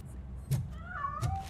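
Cat meowing in the video game RoboCop: Rogue City, two short nearby meows about a second apart with a faint whistle-like tone between them, no talking.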